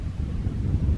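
Steady wind buffets the microphone on a cool lakeside morning in the 40s °F at Cedar Creek Campground, a continuous low rumbling roar with gusty fluctuations and no other sounds.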